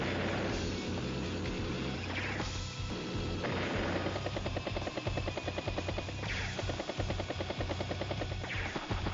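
Battle effects from the video game Advance Wars: Days of Ruin as a command copter takes an attack strike, with a steady buzzing rotor-like drone, rapid gunfire bursts and impacts, loud and continuous, no speech.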